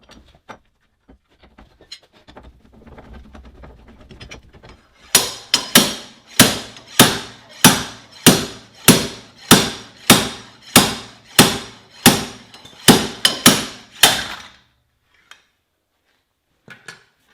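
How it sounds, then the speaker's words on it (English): Roughly a dozen sharp metallic impacts in steady rhythm from a slide hammer pulling a rear wheel bearing on a 2016+ Mazda Miata, close and loud, each a hard clank with ringing tail, preceded by quieter shuffling. "And now we attach the slide hammer."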